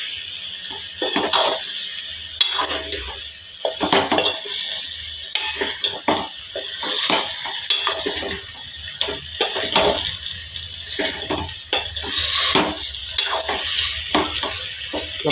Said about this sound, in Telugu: ఇంకా ఇప్పుడు ఇట్లా మంచిగా కలుపుకోవాలి